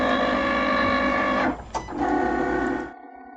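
A fabric cutting machine runs close by with a steady mechanical whir and hum, briefly stops with a short clunk, resumes and then cuts off abruptly.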